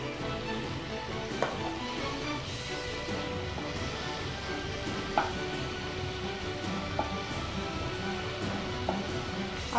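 Mutton seekh kababs sizzle steadily in a pan, a soft continuous fry with faint spattering and a few light clicks of handling, close and fairly quiet, with no talking.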